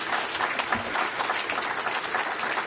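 Steady audience applause fills the whole stretch, a dense, even wash of many hands clapping at close to moderate distance, with no voices standing out above it.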